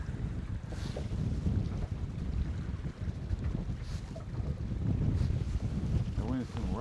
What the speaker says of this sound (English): The wind's coming right from that direction.